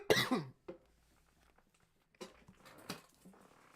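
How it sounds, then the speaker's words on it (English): A sick person's harsh cough bursts out at the start, followed by a few quieter sniffs and two more short coughs, close to the microphone. "I'm sorry if you hear me, like, snuffling and coughing."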